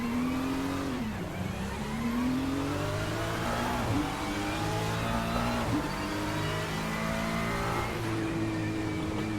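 Race car engines rev continuously in Le Mans Ultimate at Qatar, a GT3-class field with rising and falling pitch through gear shifts, loud and steady, with no talking.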